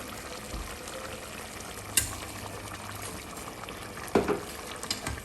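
Shrimp with their shells left on dropped into a simmering wild broth, a low bubbling and gentle frying hiss broken by two brief splashy clatters as they go in, no talking.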